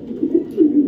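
Racing pigeons coo softly and close by, a low throaty burbling repeated in a few quick rounds.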